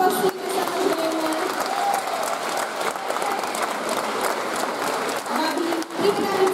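An audience at a children's dance show in Slovakia applauds steadily for several seconds, a full crowd clapping with scattered voices and a speaker talking over it.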